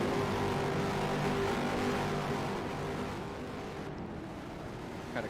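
Modified race car pulling away on the Vermont International Speedway track, engine heard as a distant, continuous rumbling drone that slowly fades, no speech.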